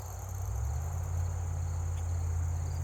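A small insect, probably a cricket, chirps in a continuous, steady high trill outdoors among trees, with a low hum underneath and no speech.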